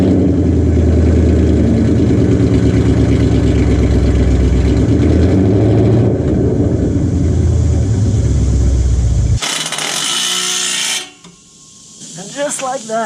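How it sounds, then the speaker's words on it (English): A car engine with long tube headers and a single Flowmaster Outlaw muffler idles with a loud, steady, throbbing rumble for about nine seconds. It then cuts abruptly to a harsh hiss and scattered quieter noises. "let's see what these long tubes sound like with just one muffler on"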